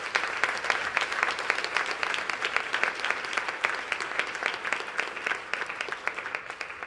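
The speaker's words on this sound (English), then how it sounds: "Let's give her another incredible round of applause." An audience applauds steadily for about seven seconds, a dense wash of many hands clapping at a moderate level with no voices standing out.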